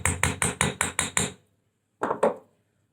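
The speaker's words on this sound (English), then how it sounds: "When I hammer this, and this is with my rawhide, I'm going to flip it over to the other side" Rawhide mallet hammering earring wire on a metal block: seven quick, evenly spaced taps, then a pause and two more taps, close and clear.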